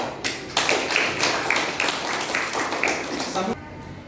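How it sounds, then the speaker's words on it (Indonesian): Clapping from a small classroom audience during a student presentation, a lively burst of close, sharp hand claps with a few louder accents, stopping abruptly near the end. "Tepuk tangan"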